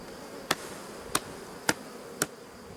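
Honeybees being cleared off a brood frame, a steady buzzing background broken by four sharp evenly spaced taps or knocks, no voices.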